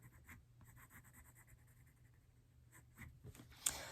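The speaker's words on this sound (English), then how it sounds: "I'll do some like scribbled lines." A pen scribbles lines on paper while drawing a still life, quiet close scratching strokes in quick repeated bursts, with a slight thump near the end.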